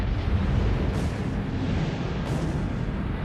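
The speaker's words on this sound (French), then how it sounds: "Une explosion de rayons gamma ou sursaut gamma." A deep, continuous rumbling roar stands in for a gamma-ray burst from a dying star collapsing into a black hole, staying loud and dense throughout with faint swells.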